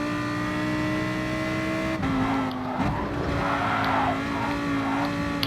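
A race car in Gran Turismo holds a steady engine drone, then the tone breaks as it misses its braking point and spins, with scrabbling tire noise and a wavering engine under continuous loud play.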